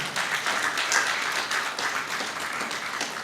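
Audience at a book launch clapping a round of applause for Alhaji Sulleyman, a dense, continuous burst of many hands filling the hall.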